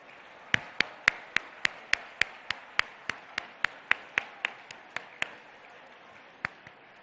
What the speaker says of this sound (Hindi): खड़े होकर हमारे मुअज़्ज़ज़ वजीर आला का इस्तकबाल करें तालियों की गूंज में